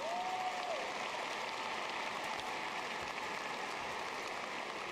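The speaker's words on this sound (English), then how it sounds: "How about another round of applause for them?" A graduation audience applauds its seniors in a steady, rain-like wash of many hands clapping that holds evenly throughout, with no talk over it.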